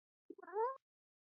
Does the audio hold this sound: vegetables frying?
no